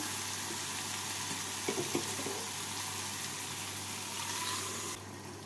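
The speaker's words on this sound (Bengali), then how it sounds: "এবার এর মধ্যে সেদ্ধ করে রাখা সয়াবিন দানাগুলোকে দিয়ে দেব" Boiled soybeans go into a pan of spices frying on the stove, giving a steady, quiet sizzle with a few soft clatters partway through and a drop in level near the end.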